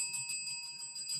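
A reception desk bell struck by hand, ringing out in a few bright, sustained metallic dings that overlap and linger across the moment, close and clear with no talking.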